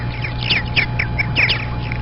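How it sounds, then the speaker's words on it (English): Several birds call in short, bright, sweeping chirps and squawks over a low steady hum, a quick irregular cluster of calls close by and moderately loud, with no talking. "Birds were singing with sweet voices."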